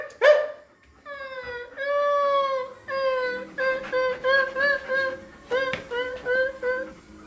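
A dog whines and yips in a rapid series of high, tonal cries with short barks mixed in, reacting to squeaking from behind a curtain indoors; close and fairly loud, the whimpers come in repeated bursts.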